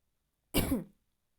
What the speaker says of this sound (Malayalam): അതാണ് ഇടയ്ക്ക് ഇങ്ങനെ ചുമക്കുന്നത് കേട്ടോ